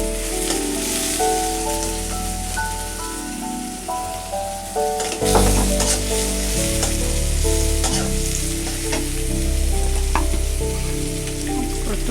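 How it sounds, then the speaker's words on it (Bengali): Sliced onions drop into hot oil, sizzling loudly and steadily up close, with a burst of sharper crackle midway as more onion hits the pan and frying continues unbroken. "তেল দিয়ে পরিমাণ মতো পেঁয়াজ দিয়ে দিলাম"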